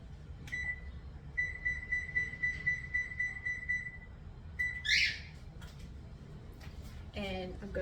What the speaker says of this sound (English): I'm going to turn my oven on to 400